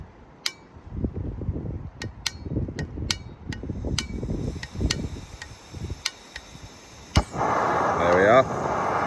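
A camping stove being lit for boiling water in the snowy outdoors: several sharp clicks from the igniter over wind rumble, then the burner catches with a loud steady roaring hiss.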